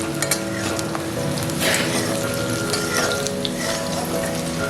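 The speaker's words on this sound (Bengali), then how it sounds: "পেঁয়াজগুলো দেখো হালকা ভাজা হয়ে গেছে" Onions frying lightly in oil with black cumin in a home kitchen, a steady soft sizzle with faint stirring and water-like hiss running throughout, close and even.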